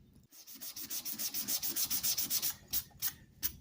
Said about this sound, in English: I do like these foam sanding pads.